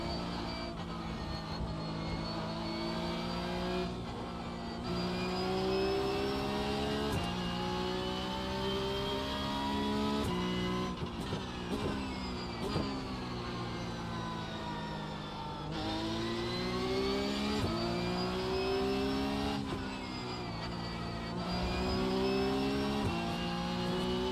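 A Porsche Cup race car screams around Spa in the iRacing game, its engine note climbing through the gears, dropping at each shift and rising again in a steady, fairly quiet cycle with no talking.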